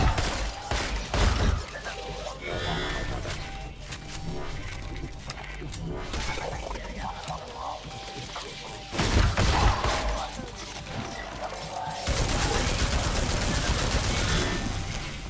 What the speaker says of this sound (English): I just got to shotgun it.